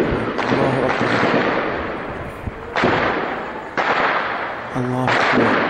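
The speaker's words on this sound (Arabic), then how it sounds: "قصف على المدينة" Shelling and heavy gunfire striking the town of Douma, loud broadband blasts and crackling bursts recurring every second or so, with someone shouting continuously over them.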